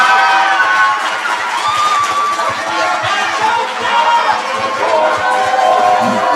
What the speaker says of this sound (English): Can we just give one more round of applause to our presidential and vice presidential candidates?